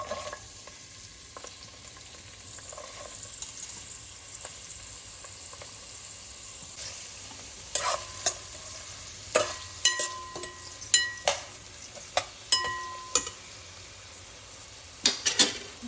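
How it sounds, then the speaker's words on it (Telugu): Green chilies and onion frying in oil in a pan, a soft steady sizzle joined in the second half by sharp clinks and scrapes of a spoon stirring against the pan. "అలా పచ్చిమిర్చి వేస్తున్నాను ఉల్లిపాయ"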